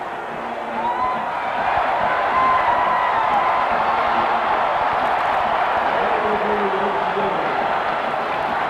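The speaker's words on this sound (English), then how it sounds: "the crowd celebrates" A stadium crowd roars in celebration as the clock runs down at a 1990 LSU at Alabama college football game, a dense, sustained wash of cheering that swells early and then holds steady throughout.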